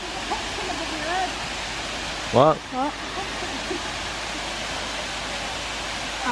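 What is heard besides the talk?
waterfall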